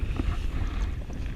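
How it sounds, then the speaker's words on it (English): Gusty wind buffets the microphone while riding a jet ski on open water, a continuous rough rumble and rush with no clear pauses. "It's getting quite windy and cold."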